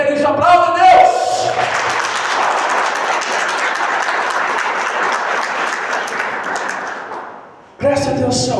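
A church congregation at a Catholic gathering bursts into sustained, loud applause that swells and then fades away, with a preacher's voice briefly heard before and after it.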